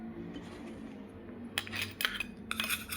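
Spoon scraping and clinking in a bowl while stirring a mixture with a few drops of coconut oil, soft rustling at first, then several bright metallic taps and scrapes close by in the second half.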